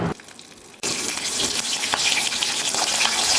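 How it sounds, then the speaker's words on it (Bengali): Nigella seeds and green chillies hit hot white oil in a kadai, setting off a sudden loud burst of crackling sizzle that holds steady and bright, with no talk. "ওই কড়াতেই সামান্য সাদা তেল দিয়ে এবার ফোড়নে দিয়ে দিচ্ছি কালো জিরে আর কাঁচা লঙ্কা"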